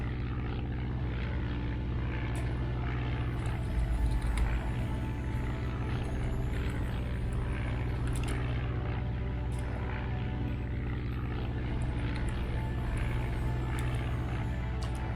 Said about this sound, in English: Plane coming into land.